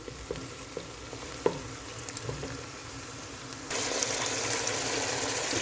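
Tomato paste frying in a pan alongside meat gives a steady close sizzle with occasional stirring clicks and pops, growing louder and brighter partway through, with no talking.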